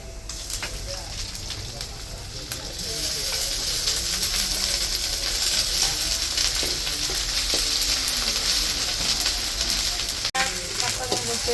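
Spices hitting deep-browned onions in a hot pan for Bengali aloo dum, a loud, steady frying sizzle running throughout, with a sharp click near the end.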